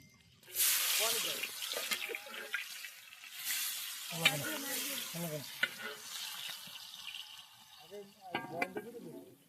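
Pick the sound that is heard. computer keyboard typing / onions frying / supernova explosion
onions frying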